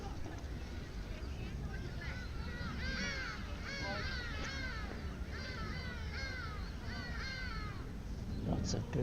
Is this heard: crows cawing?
yes